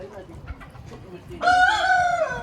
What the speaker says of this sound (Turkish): Evet, horoz.